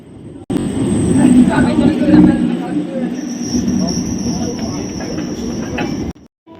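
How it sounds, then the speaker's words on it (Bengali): A train rolls in at a station near Halisahar, West Bengal, with a loud, steady rumble and a high metallic whine, then cuts off abruptly near the end. "এখন আমাদের ট্রেন ঢুকে গেছে"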